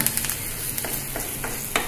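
Green turkey berries sauté in oil in a pan for chutney, with a steady close sizzle and occasional stirring scrapes and clicks, and no talking.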